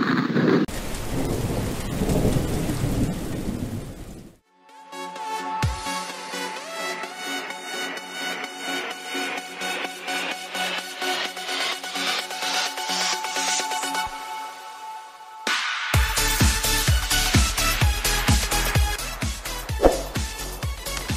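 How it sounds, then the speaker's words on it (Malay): A thunderstorm with rain: thunder rumbles in the opening seconds, then a short pause gives way to steady, close rainfall with a heavier downpour in the final stretch. "Hari nak hujan."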